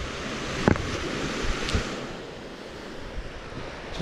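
Saltwater waves breaking on a beach in Australia's Northern Territory, a steady roar of surf close by with a few sharper splashes, mixed with wind buffeting the microphone.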